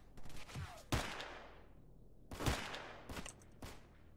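Bursts of automatic gunfire in the S.T.A.L.K.E.R. Anomaly video game, several sharp volleys with echoing tails, heard at moderate distance with no talk over them.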